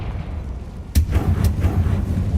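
A Confringo blast spell fired in a Harry Potter-style video game, a sharp explosive crack followed moments later by a second burst over a low rumbling game backdrop.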